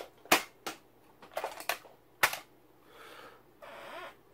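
A Dregs Promise prop dart blaster from Destiny fires in a quiet room, giving a few sharp, close snapping pops with mechanical clicks and rattles between shots, then softer handling sounds.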